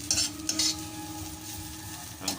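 Bamboo shoots sautéing for adobo in a pan, a low steady sizzle punctuated by a few bright scraping stirs of a utensil against the pan.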